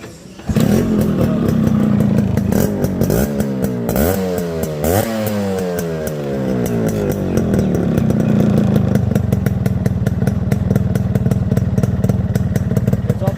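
A Yamaha RX100 motorcycle engine idles loudly up close, revs up and down twice with a rising whine, then settles back into a steady, rattling idle.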